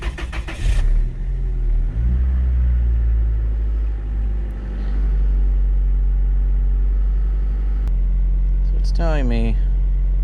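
A 1997 Toyota Tacoma's 2RZ-FE engine, under diagnosis for a P0336 code, rumbles close by and then revs with a rising whine near the end, while someone talks over it.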